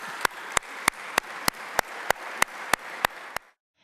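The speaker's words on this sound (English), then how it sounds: "I think that we owe you a round of applause." Applause from an audience honoring volunteers at a Virginia Beach civic event: a steady bed of clapping with sharp, evenly spaced louder claps every third of a second, ending abruptly after about three and a half seconds.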